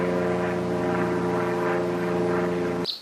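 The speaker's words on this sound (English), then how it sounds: "So at this stage the engine should start, and then you let it tick over for a bit." A Ryobi RLT26CDS petrol grass trimmer's two-stroke engine idles close by with a steady, loud, buzzing drone, running unbroken for nearly three seconds before cutting off abruptly.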